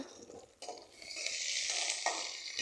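Ingredients sauté in a pan for tomato chutney while a spoon stirs and scrapes. The sizzle starts soft and swells into a steady hiss, with no one speaking.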